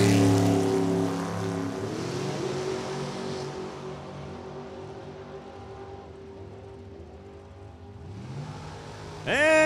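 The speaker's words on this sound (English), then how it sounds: "584 cubic inches of Chevrolet power in the Mark Spitzer built Garrett-Harris Super Comp Dragster" Loud roar of a 584-cubic-inch Chevrolet-powered Super Comp dragster racing down a drag strip, with engine tones shifting as it passes and fades, then a sharp rising rev at the end; faint announcer talk underneath.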